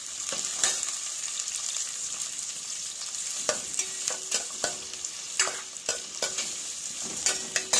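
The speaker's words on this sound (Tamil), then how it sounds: "வதங்கின உடனே நல்லா வெங்காயம் அந்த பச்சை வாசனை போக வர வதக்கிட்டு" Onions sauté in a hot pan for a Tamil brinjal kootu, a steady bright sizzle broken by repeated sharp scrapes and clinks of a spoon stirring against the metal, close and with no one talking.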